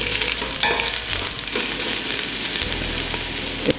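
Onions and bay leaves sizzle in hot oil in a pan for chicken curry, a steady close frying hiss with a few soft stirring knocks.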